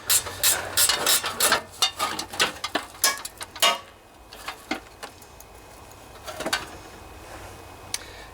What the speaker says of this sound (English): I'll take these bolts off on each side here.